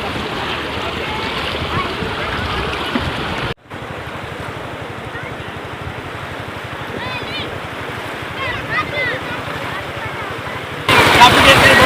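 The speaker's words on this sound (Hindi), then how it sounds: "पानी का बहाव काफ़ी तेज़ है" Fast water rushing over slick rocks at a hidden picnic spot near Karachi, a loud continuous broadband roar with wind buffeting the microphone, close and steady throughout, with a brief dropout partway.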